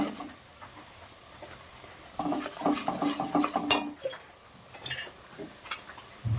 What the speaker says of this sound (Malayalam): കായം പൊടി ഇട്ടിട്ട് ഒന്നിട്ട് ഇളക്കിയെടുക്കുക